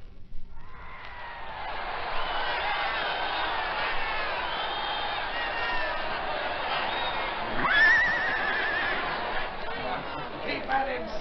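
Bucking horse whinnying at a rodeo buck-jumping show, the neighs rising over a steady crowd murmur and chatter with scattered cheering throughout.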